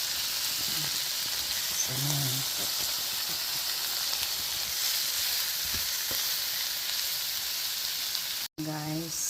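Sardines and tomatoes fry in a pan with a continuous close sizzle and hiss, while a voice speaks briefly now and then over the cooking noise.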